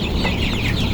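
A crowd of chickens on a poultry farm clucks continuously and close by, their overlapping calls forming a dense, busy chorus with no talking.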